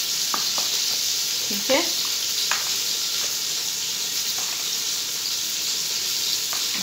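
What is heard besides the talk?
onions frying in a pan for biryani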